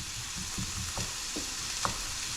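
Pork chops sizzle in a frying pan with a steady hiss and occasional soft pops and stirring clicks, close and continuous without talk.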